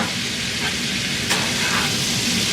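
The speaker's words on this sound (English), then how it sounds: "just stir them around a little" Oysters seasoned with Old Bay and salt are stirred in a hot pan, with a steady close sizzle and a couple of soft scraping strokes.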